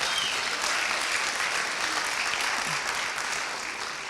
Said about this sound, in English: let's give them a big applause also